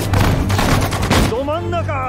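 Dense gunfire from the WWII strategy game Sudden Strike 4 during a Singapore battle, with loud rapid bursts and volleys, then a voice speaks over the fading shots.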